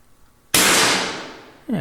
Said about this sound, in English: So at the range, I decided to shoot it straight over the chronograph.